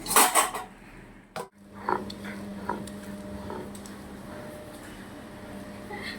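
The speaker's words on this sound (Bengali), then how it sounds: "নেড়ে দিলাম, এখন ঢেকে দেই" Food is stirred in a pot and then covered. A few close metallic clinks and scrapes of a utensil come first, then a lid clatter, followed by quiet, faint rattles and a low steady hum.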